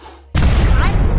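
A cartoon firecracker goes off inside a mole's burrow: one loud, sudden blast after a brief quiet lead-in, followed by a sustained roaring rumble.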